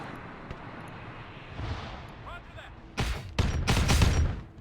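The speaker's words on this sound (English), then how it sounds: "2 of them died to an explosion" Blasts and rapid gunfire from a video game raid battle with a lost-control main gun, a quieter muffled thump early, then several loud, sharp bursts crowding the last second and a half.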